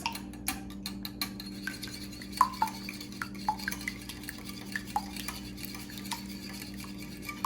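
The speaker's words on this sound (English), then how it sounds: "Whisk this." Eggs are whisked for French toast, two eggs for four slices, and a whisk taps out quick, light, uneven clicks against a bowl over a low steady hum, with no talking.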